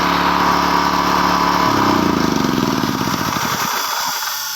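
A homemade engine-driven electric generator runs with a loud, close, steady putter that slows and winds down toward the end as the engine loses speed.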